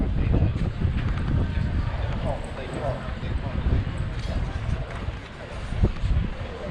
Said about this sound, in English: Bit windy here.